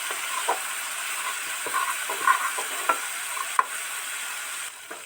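Chilli and turmeric powder fry in hot oil with a steady close sizzle, broken by a series of scraping stirs and spoon knocks against the pan, with no voices present.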